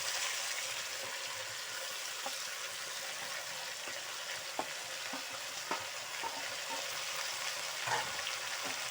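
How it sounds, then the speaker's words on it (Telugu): Eggplant, cabbage, tomato and okra frying in oil for a mixed vegetable curry: a steady, close sizzle with occasional soft stirring knocks and clicks. "ఇవన్నీ మనం ఆయిల్లో బాగా మగ్గించుకున్నాము"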